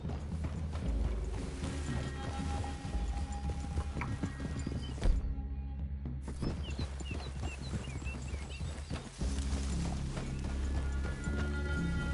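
Steady clip-clop of horse hooves in Red Dead Redemption 2 over a dense game soundscape, with a brief spoken line partway through and faint mechanical noise underneath.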